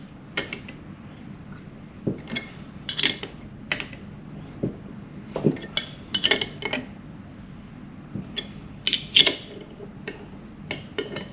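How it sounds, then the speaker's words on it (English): A suspension nut is tightened on a Classic Mini during a rebuild, producing scattered metallic clicks and ticks of a tool working against the fitting, close up in a quiet workshop. "tightening this nut up"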